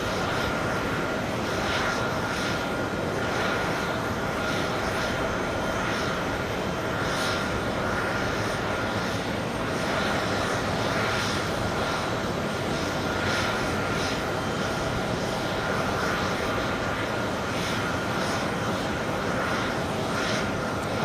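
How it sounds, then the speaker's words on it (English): A Privilege Style Boeing 777 airliner at JFK airport on a hot day, with a loud, steady jet engine roar holding evenly throughout and no voices. "there goes the privilege style 777 crossing takeoff runway."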